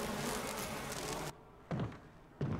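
Bees buzzing around a giant beehive in the Resident Evil HD game: a steady insect drone fills the first half, then drops away, with two short buzzing bursts returning against a quiet background.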